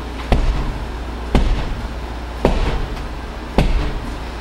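A soap mold banged down on a hard surface four times at roughly one-second intervals, each a loud, sharp thud with a brief ring, close and with no talk.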